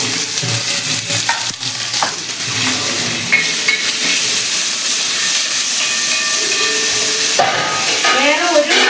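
Onions frying in a pan with mustard seeds, ginger, garlic and green chilli, a loud continuous sizzle and hiss with stirring scrapes throughout, close up and without talk.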